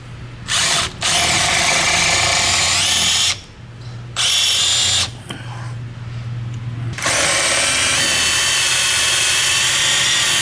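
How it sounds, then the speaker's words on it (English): Power drill boring out rivets on a KTM 300 motorcycle, loud and close, running in several long bursts separated by short pauses. "now we got to drill these rivets."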